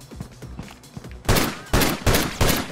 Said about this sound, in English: They shot me through the window.